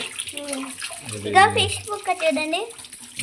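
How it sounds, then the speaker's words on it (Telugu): Fish are rinsed clean of scales under running water, a steady splashing stream heard close by beneath ongoing talk. "మొత్తం పొట్టు పొట్టు మొత్తం కడిగేసుకొని సైడ్కి పెట్టుకుంటున్నాం"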